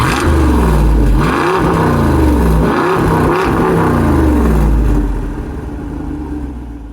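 A Jeep Wrangler 392 with a 6.4-liter Hemi V8 revs loudly up close, several throttle blips rising and falling in pitch over a deep rumble, then settling toward a quieter idle burble.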